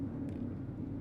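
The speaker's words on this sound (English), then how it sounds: "I apologize if you hear a plane in the background." A faint, distant airplane passes overhead, a low steady rumbling drone with no other sounds.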